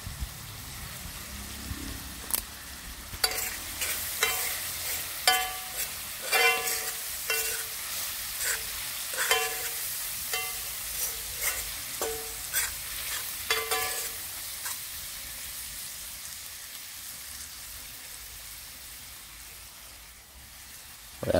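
Salt mackerel seasoned with Maggi all-purpose and fish seasoning sizzles in a hot pan, with a run of sharp stirring scrapes and crackles over a steady close frying hiss that later settles into a calmer sizzle.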